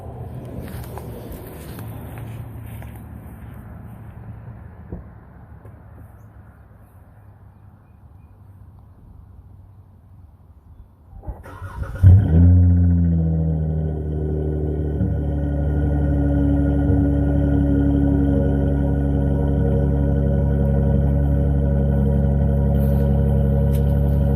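Quiet rustling gives way to a 2015 Dodge Challenger SXT V6 with resonators removed cranking and firing up, then settling into a loud, deep, steady exhaust rumble that continues to the end.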